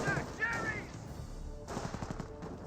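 Gunfire in the Company of Heroes strategy game, a steady clatter of small-arms shots and bursts running through the whole clip at moderate loudness, with a few sharper cracks near the end and faint voices in the background.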